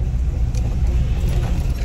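A 1987 VW Vanagon Syncro Westfalia with a manual gearbox on a test drive, giving a steady, loud low rumble of engine and road noise from inside the van, with no talking.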